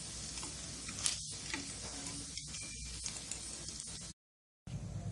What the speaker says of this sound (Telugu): నేను అట్లే వెజ్జీస్ కూడా ఫ్రై చేసుకుంటా.